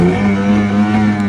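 A fishing boat's engine on the Arabian Sea off the Konkan coast drones loudly and steadily, with a low, even hum and no talk over it.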